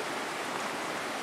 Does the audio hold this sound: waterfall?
yes